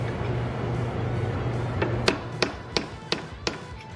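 Metal hammer or punch strikes staking the lip of a Toyota Tacoma carrier bearing nut into the threaded groove: five sharp, evenly spaced taps, close and clear, over a low steady background hum.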